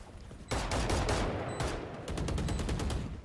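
Rapid automatic gunfire in Valorant, a sudden burst of dense, sharp shots after a quiet start, then a short pause and a second string of distinct, evenly spaced rounds, loud and close.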